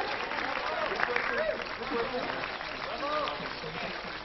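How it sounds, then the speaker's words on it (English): Audience at a Chicago hair show awards applauding the best stylist in the city, a steady wash of clapping from a crowd while a voice talks over it. "one more round of applause for the best stylist in the city"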